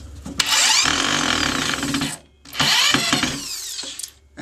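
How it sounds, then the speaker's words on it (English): Power drill driving screws into an under-desk metal cable tray, two loud whirring bursts of about two seconds each separated by a short pause, close up and without speech. "This is easier with a drill, as I'm using now"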